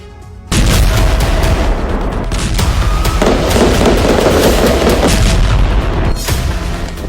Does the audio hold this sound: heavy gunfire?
yes